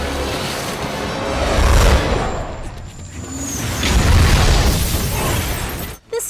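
Film explosion of a missile hitting a truck on a bridge, a loud, sustained rumbling blast with crackling debris and swelling booms lasting several seconds, ending abruptly with a short thud.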